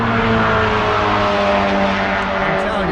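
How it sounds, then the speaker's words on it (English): Loud, steady engine drone from cars at a race event in Mexico, a dense continuous roar with layered engine tones and no pauses, close by and filling the whole stretch. "there's races going on here"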